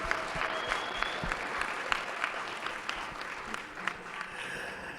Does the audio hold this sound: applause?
yes